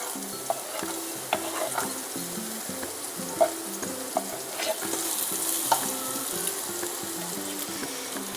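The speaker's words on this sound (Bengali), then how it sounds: "এই তেলের মধ্যেই আমি দিয়ে দেবো এখানে গাজর কুচিগুলো দিয়ে দিলাম আগে" Chopped carrots frying in oil in a pan, a continuous close sizzle broken by regular spatula scrapes and knocks against the pan, with no talking.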